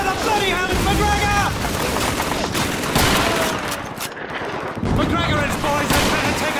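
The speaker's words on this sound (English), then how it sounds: "There's an MG-42 on the second floor!" MG-42 machine gun fire in Call of Duty 2 on PC, a dense, continuous clatter of gunfire and battle noise that fills the whole stretch, with brief shouted voices at the start and again near the end.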